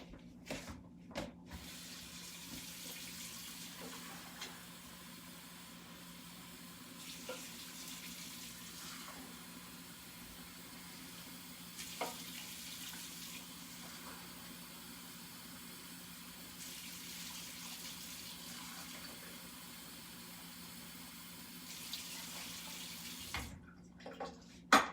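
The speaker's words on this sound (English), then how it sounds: "so I'm going to use twice as much water, 4 cups of water" Tap water runs steadily into a pot being filled with four cups of water for cooking rice, a continuous close hiss and splash with slight surges and a faint low hum beneath.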